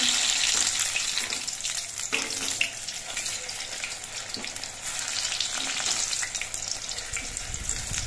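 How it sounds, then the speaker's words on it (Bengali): Large stuffed leaf fritters (bora), just flipped, deep-frying in oil with a continuous, fairly quiet bubbling sizzle and occasional faint clinks and stirring taps close by. "বড়াগুলোর এক পিঠ ভাজা হওয়ার পর আমি উল্টে দিচ্ছি।"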